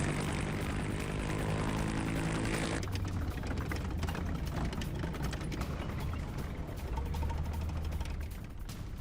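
Military helicopters rumble loudly and continuously during an Afghan forces war drill with tanks, a steady dense engine and rotor roar throughout with a shift partway through.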